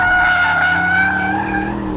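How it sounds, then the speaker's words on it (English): Aston Martin DBX SUV sliding its rear out under power through a corner, loud engine roar with a sustained tyre squeal running steady throughout, close and alone. "get on the power early, and the back end does want to rotate"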